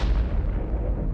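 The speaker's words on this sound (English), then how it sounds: "it drives a firing pin into a detonator, setting off an explosion" A deep, booming explosion from a detonator set off by a spring-driven firing pin, a loud rumbling blast that decays over about a second, with no speech.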